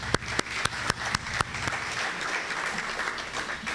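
An audience applauds at a book launch for a professor's book, opening with a few sharp separate claps that blend into a steady wash of clapping from a nearby crowd, with no talking.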